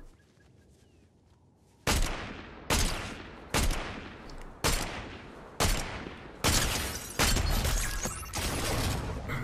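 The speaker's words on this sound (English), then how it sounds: "Gets one kill but then gets shot at by a boom bolt." Gunfire and Boom Bolt shots in Fortnite: a run of about eight sharp, loud blasts at uneven intervals, each with a crackling decay, starting after a quiet opening.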